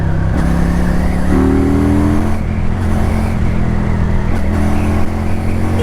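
Close and loud, a QJMotor 400 motorcycle engine revs with a thumpy, single-cylinder-like note, a couple of throttle blips rising and falling across the sustained drone.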